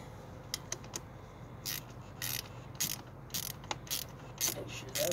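Clamps on a K&N cold air intake being tightened with a ratchet, a series of quick clicking bursts at an irregular rhythm, close but fairly quiet over a steady background hum.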